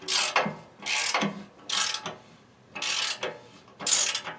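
A flexible ratchet tightens a loose nut in five separate bursts of close, crisp clicking, each lasting about half a second, with short pauses between strokes.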